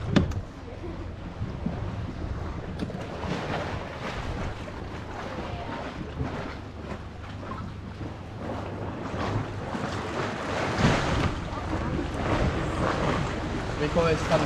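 Choppy sea waves push into a rocky cove and wash against it with a constant rushing and booming roar, mixed with wind buffeting the microphone and the hum of a boat. No voice is clearly heard.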